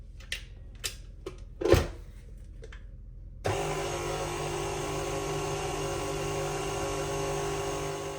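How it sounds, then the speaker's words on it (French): A stand mixer kneading sticky sfenj doughnut dough at low speed starts up after a few scattered knocks, then runs as a steady, fairly loud motor whir with a constant hum, alone and without talk. "je vais laisser tourner mon robot à peu près pendant 5 minutes pour bien le pétrir. Toujours sur vitesse lente"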